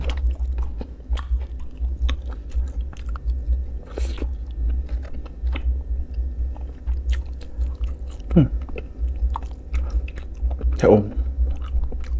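Close mukbang chewing and biting of rice with Thai chili paste, served alongside sour curry with lotus stems: soft, irregular mouth sounds with a few sharper bites, over a steady low background hum.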